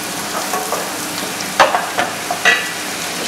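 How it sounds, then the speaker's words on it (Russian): Chopped onion sizzles in oil in a frying pan, a steady close crackle with several sharper pops and stirring clatters scattered through. "И теперь берем лук и опускаем, обжариваем маслом."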